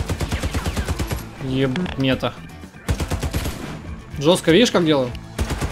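Rapid automatic gunfire from the video game Warface rattles in bursts while someone talks excitedly over it.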